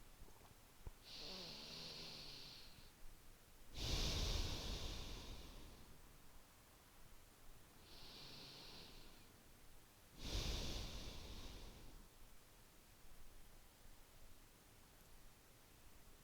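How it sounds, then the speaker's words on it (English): Slow, deep breathing during a yoga stretch, two long airy inhale-exhale cycles, each inhale soft and each exhale heavier, close and quiet against a faint hiss, no voices. "We'll take a few more breaths wherever you are."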